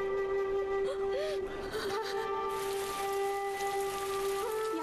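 Rain pouring in an animated Buddhist film: a steady, dense hiss of falling water under sustained musical tones, with a faint gasp partway through.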